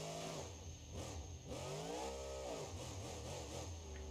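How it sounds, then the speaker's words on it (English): Supercharged and twin-turbocharged Merlin engine in the BeamNG.drive video game, revving up and down with a whine riding over the roar; pitch sweeps rise and fall over a few seconds, loud and close. "You can easily hear both the supercharger and the turbochargers working in tandem."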